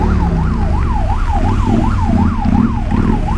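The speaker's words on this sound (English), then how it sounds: "why is there a siren?" An emergency vehicle siren wails on a highway in rainy traffic, rising and falling in a steady rapid cycle about three times a second, loud and close over the low rumble of engines and road noise.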